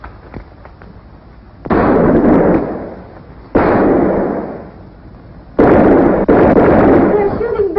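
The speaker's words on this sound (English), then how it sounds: "They're shooting back." Gunfire and explosive bursts from a shootout in a 1956 American exploitation film, three loud sustained volleys of blasts separated by quieter gaps with faint background sound.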